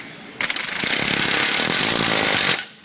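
A power tool drives a 19 socket to tighten a spindle nut on a Yamaha Drive golf cart lift kit, giving one loud, steady whirring burst of about two seconds that starts abruptly and then winds down.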